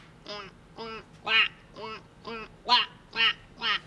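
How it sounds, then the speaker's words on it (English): A duck quacks in a rapid run of about eight nasal, evenly spaced calls, close and fairly loud, from a 1983 children's television segment about birds. "Is that a duck?"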